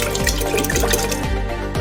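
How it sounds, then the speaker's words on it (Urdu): Water pours into a jug of mango squash, a brief close splashing stream with rising gurgling tones as the jug fills, steady and fairly loud. "پانی شامل کریں،"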